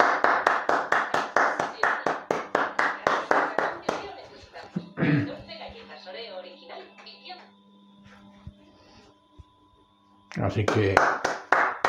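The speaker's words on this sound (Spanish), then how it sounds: "Un aplauso por todos ellos." A few people clap in a quick, even rhythm in a home kitchen during dinner preparation for Reyes. The clapping breaks off while a voice speaks, then the crisp, close hand claps start again.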